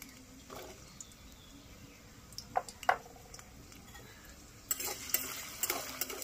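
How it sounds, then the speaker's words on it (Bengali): Potato and carrot frying together in hot oil, giving a soft steady sizzle with occasional stirring clinks, then a louder burst of crackling toward the end, close by with no talk. "তেলটা গরম হয়ে গেছে, আমি আলুটা ভেজে নিচ্ছি। প্রথমে আলু আর গাজরটা যেহেতু শক্ত সবজি, একসাথে ভেজে নেব।"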